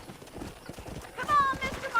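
Horse hooves clip-clop at a steady trot while riding in the video game Red Dead Redemption, with a brief whinny near the end and character voices talking over the rhythmic hoofbeats.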